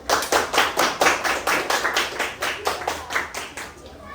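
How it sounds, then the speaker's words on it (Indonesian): Children in a classroom applaud a classmate with a steady rhythmic clapping that is loud and close, each clap falling in an even beat for several seconds. "Kasih tepuk tangan untuk temannya."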